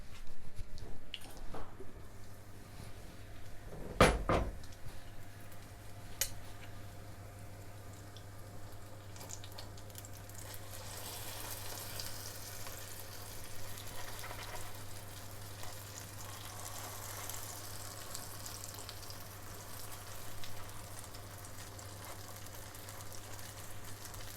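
Syrniki, cottage cheese pancakes, frying in a pan: a few sharp clatters early on as they are turned, then a steady close sizzle and crackle of hot oil that continues alone.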